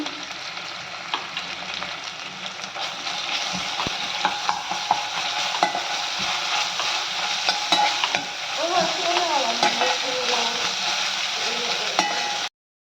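Ginger garlic paste and turmeric fry in a pan with a steady close sizzle, while a spoon stirs and scrapes repeatedly across the metal throughout.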